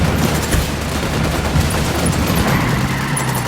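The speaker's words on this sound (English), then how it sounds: "I'm opening fire on these shitheads." Sustained gunfire in the tactical shooter Ghost Recon Wildlands: a dense, loud, continuous fusillade of overlapping shots and bursts with no talk over it.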